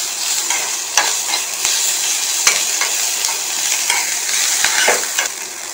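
Carrot chutney ingredients with a handful of coriander leaves being stirred in a hot pan, a steady sizzling hiss broken by scattered scrapes and clicks of the spoon against the metal, close and continuous with no talk.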